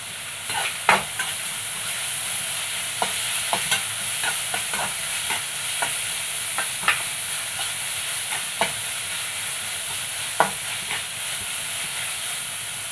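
Crushed ginger and garlic frying in a pan, a strong continuous hiss and sizzle up close, punctuated by scattered sharp taps and scrapes of a spoon stirring, with no voices.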